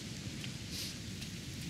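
Steady rain falls in the Sengoku Dynasty game world, a continuous hiss of drops with a low rumbling undertone, even and unbroken with no voices.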